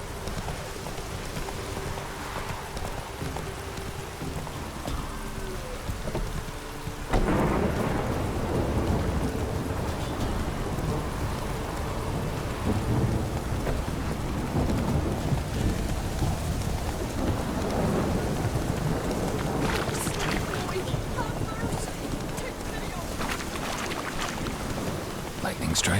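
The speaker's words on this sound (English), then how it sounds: "Lightning strike." A thunderstorm in The Witcher 3 video game brings steady heavy rain with rolling thunder. The rain grows louder after a sudden low boom partway through and continues as a dense, constant wash.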